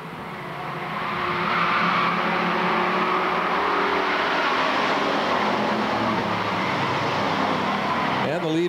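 Bomber-class stock cars racing at Lakeport Speedway, a dense, steady roar of several engines bunched together that swells and holds loud throughout. A race announcer talks over the engine noise.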